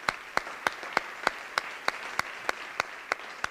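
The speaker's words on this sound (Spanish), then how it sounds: "Un fuerte aplauso enorme para mi querido Pau Donés desde aquí" Applause from a gala awards audience, a thin, fairly distant, regular clapping with sharp individual claps standing out at an even rhythm over soft crowd noise.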